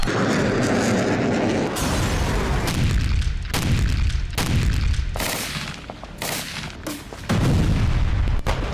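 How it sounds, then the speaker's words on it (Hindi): Israeli artillery shells blast one after another at irregular intervals, each loud boom followed by a rolling rumble and echo. "पहले 10 धमाके, फिर 10 और।"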